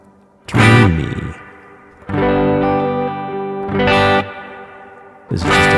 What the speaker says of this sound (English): This is just a big modulated reverb.